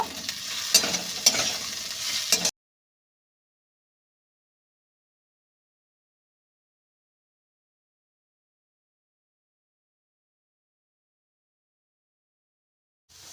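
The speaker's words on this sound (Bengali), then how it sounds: "এবার মটরশুঁটিগুলো দিয়ে দেব। এবার একটু নাড়িয়ে নেব।" Green peas and softened onions are stirred in a pan for a mashed pea dish, with a brief burst of sizzling and spoon scraping, then a long silence and a faint return at the very end.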